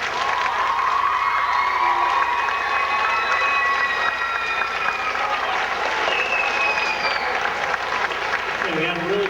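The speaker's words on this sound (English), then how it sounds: "How about a round of applause?" An audience applauds at a 2005 high school talent show in Fairfield, Iowa. The clapping is loud and sustained throughout, with scattered cheers and whistles, and a voice is heard near the end.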